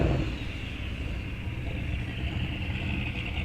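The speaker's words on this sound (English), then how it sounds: "I hear the coast down of another turbo car coming up here." A turbocharged drag race car coasts down the track at a fall muscle car and motorcycle event, a steady broadband rumble with a sustained whine, moderately loud and continuous without talk.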